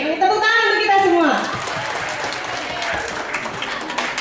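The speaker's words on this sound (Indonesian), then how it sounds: "Tepuk tangan untuk kita semua." Audience applause at a sales event breaks out after a voice finishes speaking, a steady crowd clapping that keeps going at even strength to the end.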